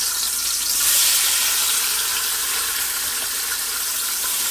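Tomatoes and onions hit a hot pan and sizzle in a loud, even, hissing wash that holds steady throughout with no voices.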